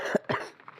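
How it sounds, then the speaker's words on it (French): Two short, close coughs in quick succession, followed by a quieter breathy trail. "je tousse un petit peu"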